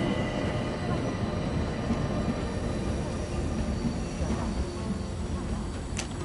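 A passenger train rumbles along the rails in a steady, loud, continuous roar, with a brief metallic squeal near the end.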